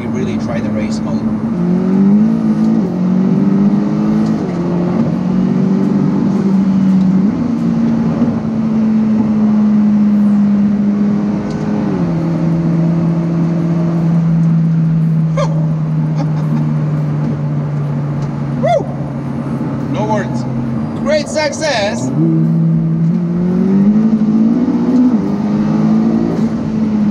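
A McLaren Speedtail hypercar drives and accelerates on a short road run, its engine note rising and shifting through gears, steady and close throughout, with occasional faint passing noises.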